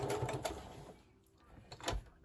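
A sewing machine stitches through cardstock for junk journal binding. It runs in a few quick, close mechanical bursts with a short pause between them.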